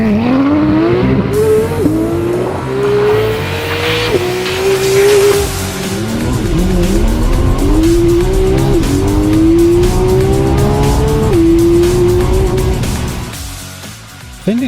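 Porsche 991.2 GT3 driven hard on a road, its engine repeatedly revving up through the gears with sharp shift drops, tires squealing and skidding over the loud, close howl.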